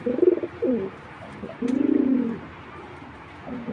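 A pigeon coos close by in a few separate phrases, short throaty rolls followed by one longer, warbling coo, with quiet pauses between.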